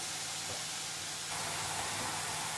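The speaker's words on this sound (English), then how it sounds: "Now we just fry this off, no colour." Shallots and onion sweating gently in olive oil without browning give a soft, steady sizzle and hiss that swells a little partway through, with no voices.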